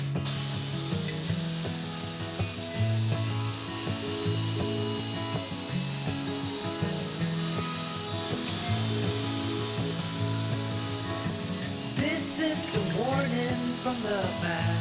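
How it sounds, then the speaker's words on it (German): A wooden shelf back panel is being sawn by hand, with a steady, close back-and-forth rasping rhythm of strokes running continuously, with brief scraping shifts near the end. "Und dann sägen wir die Rückwand zu."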